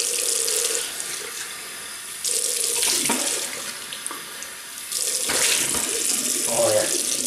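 Tap water runs steadily into a sink while shaving cream is rinsed off, a broad hiss that pauses briefly twice and then resumes, with faint splashing near the end.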